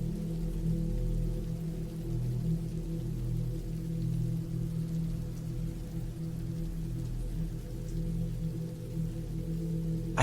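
Steady rain falling at night near a cabin in the woods, a soft constant hiss with low rumbling underneath, even and unbroken throughout.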